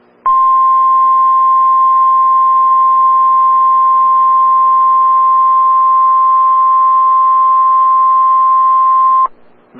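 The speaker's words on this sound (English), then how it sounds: "This is a test of the National Weather Service NOAA Weather Radio All Hazards warning alarm system" Steady electronic warning alarm tone from a NOAA Weather Radio All Hazards receiver during a weekly test, a single loud continuous pitch holding unbroken for about nine seconds before cutting off abruptly.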